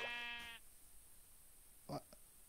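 A sheep in the Minecraft video game bleats once near the start, a short wavering call, followed by a quiet stretch and a brief faint rustle near the end.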